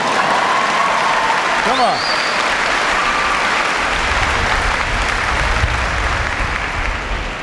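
Audience clapping steadily throughout at a naval ceremony honoring visiting Spanish Armada sailors, loud and sustained, with a voice briefly calling out over the applause.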